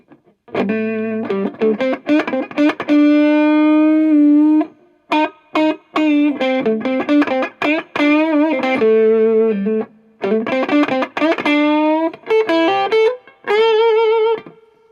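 Electric guitar played through a gritty Firebird Firefly FFDCD overdrive pedal, bluesy phrases with bends and short pauses, loud and close, no talking.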